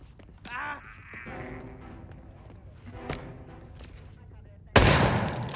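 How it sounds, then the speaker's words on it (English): Gunfire in the Hitman stealth video game, a few sharp shots ringing out, the last one loud and close near the end, set among game sounds and effects. "Oh no, someone heard a gunshot."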